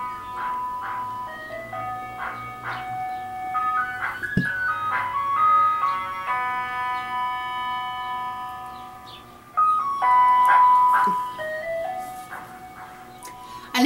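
Ice cream truck jingle playing in a residential cul-de-sac, a bright electronic melody of repeated notes that drifts nearer and farther as the truck circles, loudest toward the end with faint traffic beneath.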